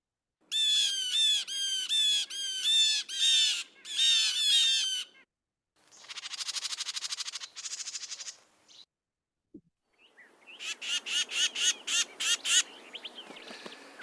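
Recorded examples of small birds mobbing an owl: loud, close bursts of rapid, repeated harsh calls and chirps, heard as several separate sequences with short silent gaps between them and no talk.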